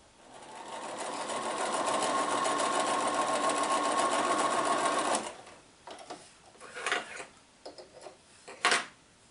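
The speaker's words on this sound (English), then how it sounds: "I'm going to go ahead and sew this bottom section and press this" Sewing machine stitching quilt block pieces, a steady fast mechanical whir running for about five seconds, then stopping, followed by quiet handling clicks and fabric rustles nearby.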